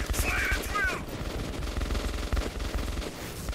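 Rapid automatic gunfire rattles through the Metro 2033 Redux game, with continuous bursts of shots and a brief whine near the start, moderately loud and steady.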